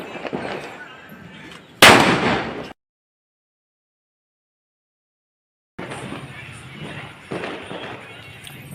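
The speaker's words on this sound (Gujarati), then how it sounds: "તો એમ થયું કે ચાલો 3-4 ફટાકડા આપણે પણ ફોડી લઈએ." Firecrackers burst outdoors at New Year midnight: one sharp, loud crack rises over a busy crowd din before the sound cuts to silence. The noisy background then returns.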